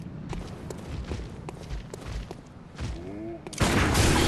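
Gunfire in the video game Bloodborne: several sharp shots spaced through a dense, busy game soundscape with footsteps and thuds, ending in a sudden loud burst that fills the last moments.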